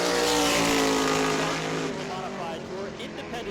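A NASCAR Whelen Modified race car runs through the banked turns at New Smyrna Speedway with a loud engine roar that slowly fades as it moves away, and a commentator talks over it.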